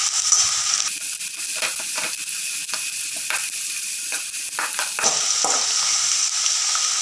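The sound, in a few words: jackfruit frying in oil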